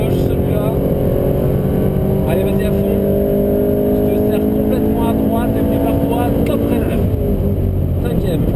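A Ferrari 458 Italia on a track driving course pulls hard, its loud engine note rising steadily through the gears before easing off, while an instructor talks over it.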